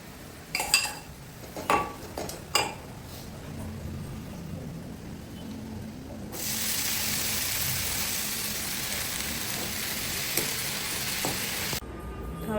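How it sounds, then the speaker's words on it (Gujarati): Leftover overnight khichdi is tempered in a hot pan. A few utensil clatters and knocks come first, then a loud, steady sizzling hiss bursts up, holds for several seconds and cuts off abruptly. "હજુ તો ખીચડી પડી રાતની એ વઘારવાની નાસ્તા માટે."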